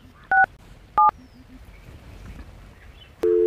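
Telephone keypad tones beep in short separate bursts, followed by a longer tone near the end, heard close over quiet background.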